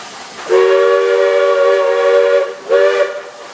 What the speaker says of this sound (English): this long, short whistle signifies I'm here